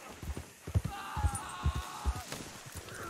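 Hooves of a galloping horse in Red Dead Redemption 2 beat out a quick, rhythmic clip-clop, steady thuds at mid distance with faint game ambience behind them.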